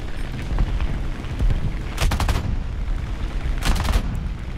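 Short, loud machine gun bursts from a Ro.44 floatplane strafing ground targets in War Thunder, two distinct rattling volleys over a steady roaring engine drone.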